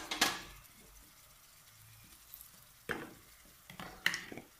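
Ginger garlic paste fries with softened onions in a pan, a quiet low sizzle under several sharp spatula scrapes and stirs, one at the start and a few toward the end, nearby and without speech.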